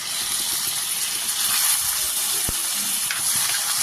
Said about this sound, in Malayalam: പടവലങ്ങ ചെറിയ പീസുകളാക്കി ഇട്ടിട്ടുണ്ട്, അതും കൂടി ഇട്ട് കൊടുക്കാം.